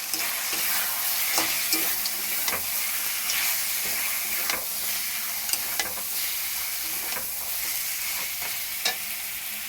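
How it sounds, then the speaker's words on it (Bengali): Oil sizzles and hisses steadily in a pan while small chuno fish are cooked for a spicy fish jhal. Sharp clicks and scrapes of stirring cut through the continuous frying noise, and no one speaks. "চুনো মাছ এখনো ভাজা হয়নি, চুনো মাছ ভাজবো"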